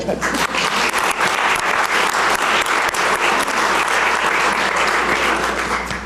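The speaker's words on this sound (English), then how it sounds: "give these kids a round of applause for being so good up here" A crowd at a Salt Lake City anti-bullying press event gives the kids loud, sustained applause, a thick, even roar of clapping that lasts throughout.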